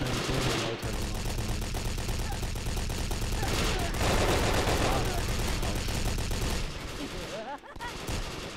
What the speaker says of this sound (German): da schießt gerade jemand im Geschütz, ey. Das ist brutal laut.